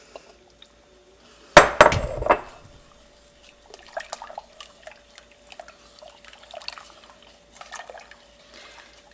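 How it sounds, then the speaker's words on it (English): A spoon clanks against a pot as granulated sugar is stirred into liquid, opening with a loud scraping clatter and then giving way to quieter, scattered taps and scrapes over a steady faint hum. "We're going to stir that and get it well dissolved."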